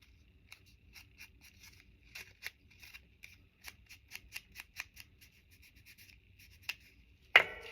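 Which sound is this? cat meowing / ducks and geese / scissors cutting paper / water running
scissors cutting paper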